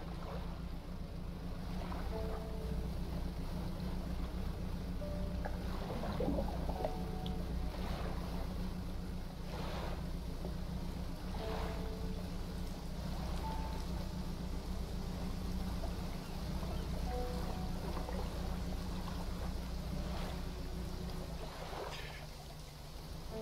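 A fishing boat putters across open water in the video game Dredge, a steady low engine drone under soft wave and wind wash, with faint scattered tones over it for the whole stretch.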